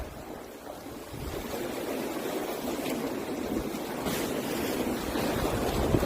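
Wind at a fishing spot by the sea, blowing in a steady broad rush with buffeting on the microphone that swells gradually louder, with no voices over it.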